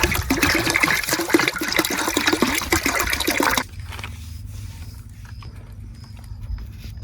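Water gushes steadily and loudly while mor fruit juice is being made, then drops abruptly to a quieter, thinner trickle partway through, with no talking.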